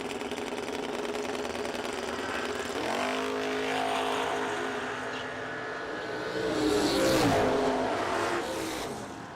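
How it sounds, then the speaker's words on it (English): A 1994 Camaro with a twin-turbo LS engine launches down a drag strip, its roar rising in pitch through the gears and surging loudest near the end of the run. "94 Camaro. Twin turbo LS."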